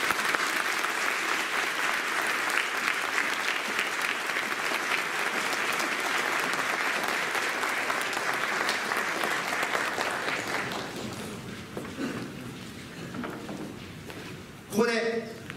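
A seminar audience in a packed hall claps in loud, sustained applause as a speaker takes the stage. The clapping fades after about eleven seconds into scattered claps, shuffling and a few thumps.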